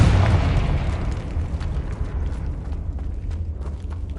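A Confringo spell explosion in the game Hogwarts Legacy, one loud close boom at the start that trails into a long rumbling decay.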